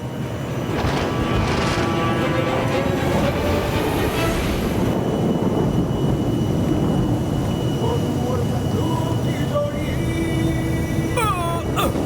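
A cartoon airplane in Motu Patlu, about to crash, roars with a loud, continuous engine drone that never lets up, with faint tonal effects layered on top.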